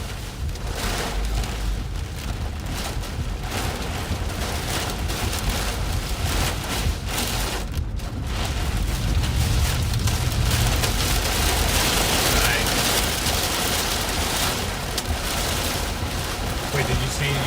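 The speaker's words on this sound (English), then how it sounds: "The blasting rain curtain." A heavy rain curtain sweeps through during an Arizona storm, a loud, dense roar of driving rain and wind that stays intense for the full stretch.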